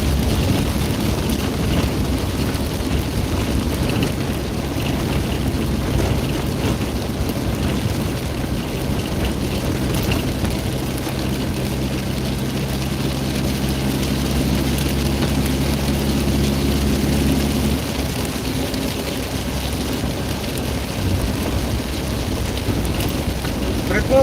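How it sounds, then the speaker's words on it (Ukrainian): Heavy rain pours outdoors as a dense, steady hiss that fills the whole stretch, with wind buffeting the microphone and a low rumble underneath. "Йо, який дощ."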